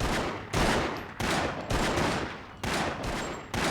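9mm pistol fire in the PlayStation 2 game The Sopranos: Road to Respect, with loud, rapid bursts of shots in quick succession broken by brief pauses.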